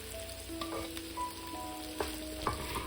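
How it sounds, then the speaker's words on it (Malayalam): Pre-fried shrimp sizzle with sautéed onions and masala in a pan for a Kerala-style shrimp roast. A constant close frying hiss runs under repeated stirring and scraping, with a few sharper clinks and no voices. "നമുക്കിതിലേക്ക് വറുത്ത് വെച്ചിരിക്കുന്ന ചെമ്മീൻ ചേർത്ത് നന്നായിട്ട് ഇളക്കി യോജിപ്പിക്കാം."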